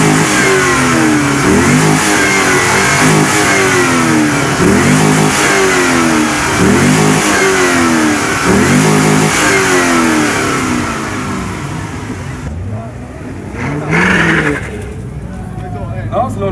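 Car at an exhaust volume competition during an All American car meeting, revving loudly in a series of repeated throttle blips that rise and fall in pitch, then quieting. An announcer talks over the engine.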